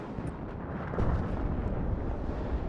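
Mortar artillery fire in the WARNO video game: a continuous low rumbling roar of distant launches and impacts that holds steady, with a slight swell near the middle and no talk.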